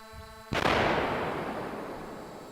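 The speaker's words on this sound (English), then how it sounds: "This is the footage of explosion." A controlled demolition blast at a nearby site bursts out suddenly and loud, then rolls on as a long, slowly fading rumble, with no voices over it.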